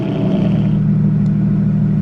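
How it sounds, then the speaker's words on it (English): A straight-piped V12 car engine idles steadily in a deep, loud, continuous rumble close by, with no voices. "Now, let's get the car on."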